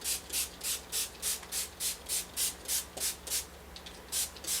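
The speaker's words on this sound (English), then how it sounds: "I'm just going to do it with my spray bottle. And I'll just give this whole thing a spray." A handheld spray bottle mists water onto a sheet in about a dozen regular, evenly spaced hissing squirts, each short and close, with no talking.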